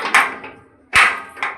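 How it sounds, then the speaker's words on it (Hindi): A home gate being shut at a house entrance, giving two sharp banging knocks about a second apart, the second heavier with a low thud, then a lighter rattle trailing off. "गेट बंद कर ले"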